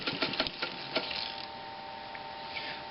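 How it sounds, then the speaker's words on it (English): A sailmaker's sewing machine winds down after the pedal is released: brief rapid mechanical clatter that slows over about a second, then a steady faint hum and whir fading out, close up with no talking. "I'll just let off on the pedal and you can see how long it takes for it to coast."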